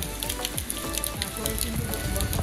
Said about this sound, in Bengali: সজনেখালি ওয়াচ টাওয়ারে এসে ভীষণ বৃষ্টি শুরু হয়ে গেল।